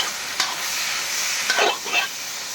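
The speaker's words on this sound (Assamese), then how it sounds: "ধুনীয়াকৈ ভাজি আছোঁ" Pointed gourd and potato dry-frying in a pan, giving a loud close continuous sizzle with a few brief stirring scrapes, no voices.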